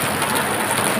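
Heavy rain pours down in a dense, steady hiss, loud and continuous with no voices over it.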